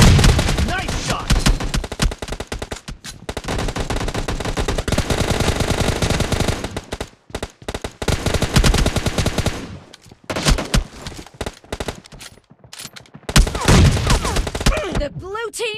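Loud automatic gunfire from the video game PUBG, long rattling machine-gun bursts with short pauses and scattered single shots, filling nearly the whole stretch with dense, close-sounding fire.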